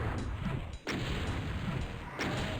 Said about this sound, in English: So I'll let these guys fire off a few rockets.